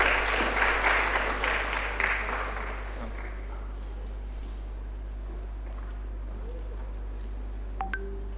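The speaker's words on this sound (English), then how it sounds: "Let us all welcome ma'am and give them a round of applause." An audience at an MBBS orientation ceremony in Kalaburagi gives a round of applause. The clapping is loudest at the start and fades away after about three seconds, leaving a low hum and a few faint tones.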